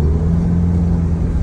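A Chevrolet Trailblazer engine with a black smoke and no-RPM fault rumbles close by, a steady low droning roar held at a constant level for a brief moment without voices.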